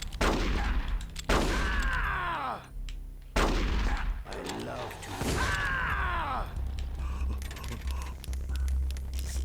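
Gunshots ring out during a boss fight in Metal Gear Solid: The Twin Snakes, several loud sharp bursts with ringing tails spread across the stretch, with a voice talking between them.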